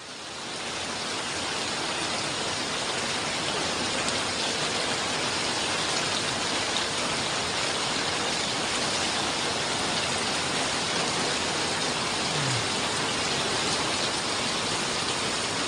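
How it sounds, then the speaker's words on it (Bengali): Steady rain pours down across a college campus in Lauer Fatehpur, a dense, even hiss of drops on the grounds and foliage that holds at the same loud level for the whole stretch, with no voices. "রকমতের বৃষ্টি আপনারা দেখতে পাচ্ছেন"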